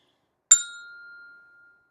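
Percussion bells struck with a lifting stroke give a single clear, bright ding that rings on and fades slowly, alone in quiet.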